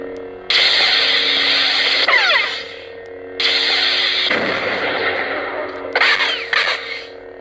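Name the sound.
lightsaber blaster bolt sound effect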